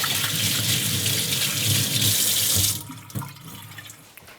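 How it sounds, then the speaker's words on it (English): Hands being washed under a running kitchen tap while making kimchi pork bun dough, a loud steady gush of water that suddenly cuts off, followed by a few faint drips and small clatters. "First, you gotta wash your hand."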